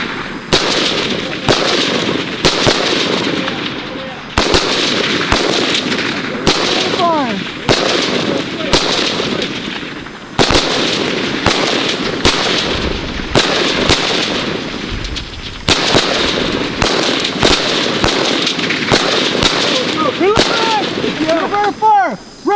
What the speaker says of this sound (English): Once they start shooting, we're going to let them shoot for 30 seconds